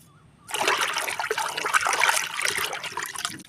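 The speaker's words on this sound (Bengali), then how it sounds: "এই জলটা আমি প্রতিটি গাছের গোড়ায় দিয়ে দেব" Turmeric-mixed water poured at the base of eggplant plants in a kitchen garden, a steady splashing, trickling pour that starts abruptly and runs close and moderately loud for about three seconds.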